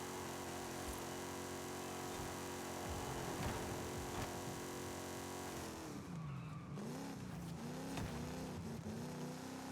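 A Camaro races past in Forza Horizon 5 during a 450hp spec series race, a dense engine roar with tire squeal throughout, the pitch dropping then climbing again as it goes by, under constant game audio.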